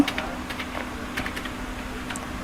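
A computer keyboard being typed on to enter a Google search, with a quick, uneven run of close, crisp key clicks and no voices.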